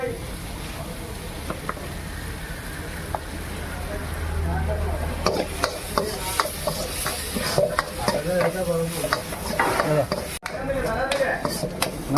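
Prawns roast in a pan, sizzling steadily while being stirred, with scraping and clattering utensil hits growing busier midway; voices murmur faintly in the background.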